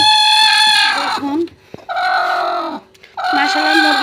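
A large black hen being set on eggs to brood, with chickens calling loudly and close in three drawn-out, clucking bursts separated by brief pauses.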